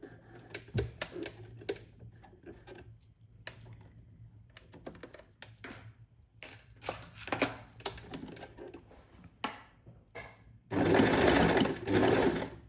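A sewing machine stitches hessian and felt for a rice-filled needle felting mat, giving short bursts of rapid mechanical clatter with pauses and handling noises, then a longer, louder continuous run at the end.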